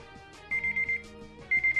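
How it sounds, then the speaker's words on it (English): An electronic alarm beeps in two bursts of four quick tones, high and piercing, over faint background music. "Oh, that was my alarm."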